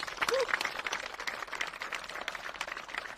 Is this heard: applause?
yes